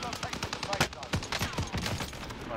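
Gunfire in the Call of Duty: Warzone Pacific video game: rapid, overlapping bursts of automatic shots crackling steadily for a couple of seconds, loud and close, with no voices.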